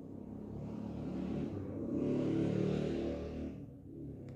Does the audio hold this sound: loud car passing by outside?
yes